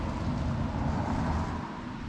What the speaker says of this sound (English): So I'll wait for this car here just in case you can't hear me.